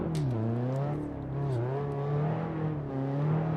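A BMW E30 engine in Assetto Corsa, held at a steady droning rev with slight wavering pitch as the car slides sideways drifting on an icy lake, loud and continuous with no talk.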